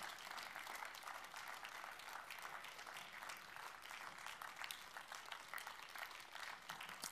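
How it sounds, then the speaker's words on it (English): An award-ceremony audience applauds continuously, a thick, even wash of many hands clapping at a moderate distance, fairly quiet overall and without speech on top. "Come on, no desultory clapping."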